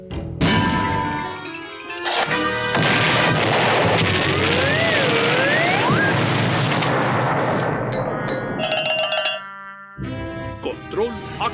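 A cartoon bomb goes off with a loud, sustained roaring blast and whistling, sliding tones, followed by scattered crashes and clatter, all close and busy.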